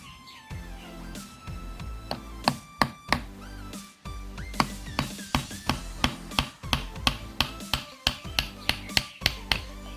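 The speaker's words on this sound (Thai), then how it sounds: "และหลังจากนั้นเราก็นำตะปูมาตอกตรงรอยที่เราเลื่อย ไว้นี่ครับ" A hammer drives a nail into the end of a piece of wood, right at a saw cut made to keep the end from splitting. Sharp, close strikes come in quickening runs with short pauses between them.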